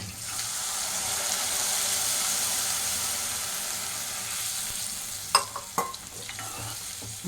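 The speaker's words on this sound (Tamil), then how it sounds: "இப்போ தண்ணி கொதிக்குது" Water for wheat rava upma boils in a pan, a steady close bubbling hiss that runs throughout, with a few sharp clicks and knocks near the end and no talking.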